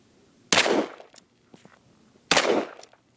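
Two sharp, loud gunshots roughly two seconds apart during outdoor target shooting, each with a brief echoing tail and quiet pauses between.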